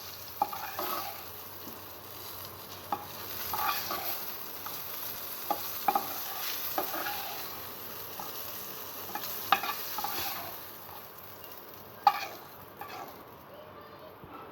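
Eggplant pieces frying in oil for a sweet, sour and spicy pickle, a steady soft sizzle with scattered clinks and scrapes of stirring throughout, some faint background noise.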